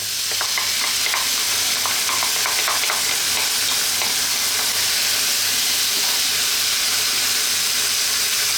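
Tomato sauce sizzles and hisses steadily in a hot pan over lowered heat, a broad continuous fizz with a few light stirring scrapes near the start and no talking.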